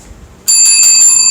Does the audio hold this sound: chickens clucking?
no